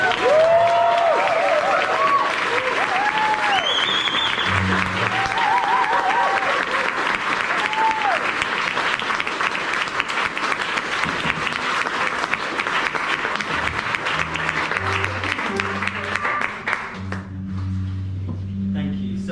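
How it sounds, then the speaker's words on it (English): Theatre audience at a choir concert in the Southwark Playhouse breaks into a long, dense round of applause that holds steady for many seconds, then dies away as a voice begins speaking. "So if we can just give a round of applause."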